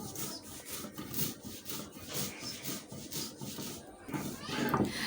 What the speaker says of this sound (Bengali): এখন সরিষাটাও বেটে নেওয়া হবে।